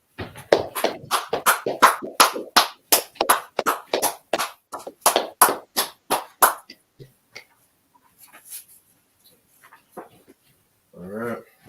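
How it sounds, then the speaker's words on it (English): A small group claps in a class setting, about a dozen sharp claps in a quick, uneven run over several seconds. The clapping then thins to a few scattered taps, and a brief voice is heard near the end. "Let's clap it up."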